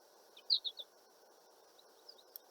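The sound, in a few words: birds chirping outdoors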